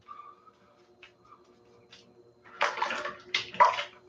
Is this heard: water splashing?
yes